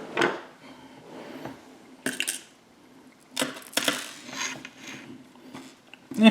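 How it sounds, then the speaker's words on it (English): Small GP screws being driven into an Eaglemoss Nissan GT-R scale model give off brief, close clicks, taps and ratcheting bursts, scattered irregularly across quiet stretches with no talk. "Now what we're going to do is we're going to attach 4 GP screws right there."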